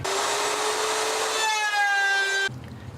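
A wooden piece being sanded to round its top makes a close, continuous abrasive rasp that holds steady, then drops away sharply near the end.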